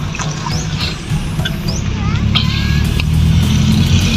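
A Toyota EE100 with a 2E engine hums along on a test drive, road and engine noise steady and close, with occasional squeaks and clicks from the cabin.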